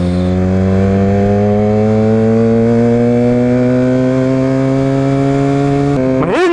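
The engine of a Yamaha R6 motorcycle in a video game runs at a steady, slowly rising buzzing pitch, loud and close, then revs sharply upward near the end.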